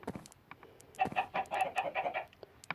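A Minecraft chicken on an egg farm clucks in a quick series of short, close calls, with a soft scuff before and no talking.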